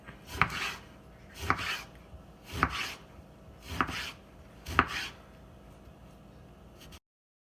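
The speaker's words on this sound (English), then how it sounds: "So I'm gonna grab my eggplant that's soaked for about a half an hour here. I'm just gonna slice it." A knife slices through soaked eggplant on a cutting board in five evenly spaced, crisp chops, close and fairly quiet, each one ending in a light knock.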